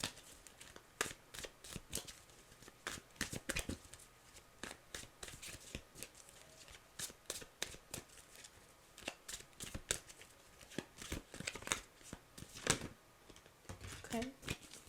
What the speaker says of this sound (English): Okay, let's shuffle.